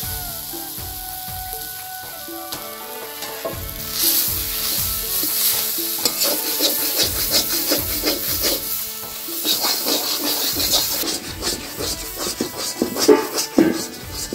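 Potatoes go into a hot frying pan and are stirred, repeated close scraping strokes over a rising sizzle, growing louder and busier as the stirring continues, with no talk.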